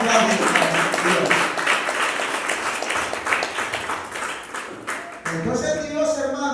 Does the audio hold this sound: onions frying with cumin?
no